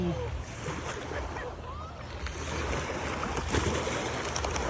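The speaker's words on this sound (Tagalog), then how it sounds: "Ang sarap pakinggan ng simoy ng hangin, ng tubig." Steady wash of seawater lapping under a light sea breeze, a soft continuous broadband hiss with low rumble, moderately close and unbroken, no voices over it.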